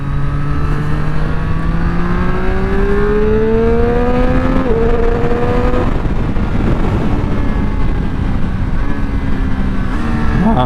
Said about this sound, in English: This is obviously the famous 765 engine, so it's triple.